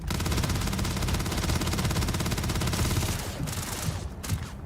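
Rapid automatic gunfire from a weapon in the video game Starfield rattles in a dense, sustained burst for several seconds, then breaks into a few shorter volleys near the end.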